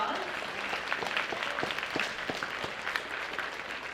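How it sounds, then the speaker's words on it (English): Moderate applause from an audience at an eighth-grade school awards ceremony, individual claps distinct and uneven, with some voices murmuring underneath. "Give them a round of applause."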